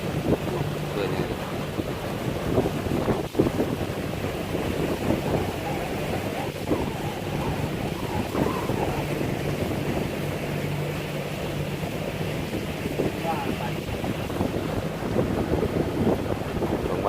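A fishing boat travels on open water on a misty day, with a steady broadband rush of wind and water hiss and a low hull rumble, continuous and even throughout.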